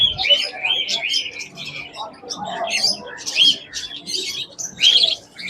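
Cockatiels and other exotic pet birds at a pet market chirp and tweet in busy, overlapping bursts, close and lively throughout.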